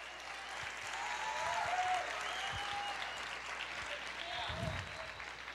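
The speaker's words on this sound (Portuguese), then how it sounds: "Aplauda o Senhor, libere esse espírito de louvor." A church congregation applauds in praise, a steady dense wash of clapping filling the room, with faint voices and low rumbles mixed beneath.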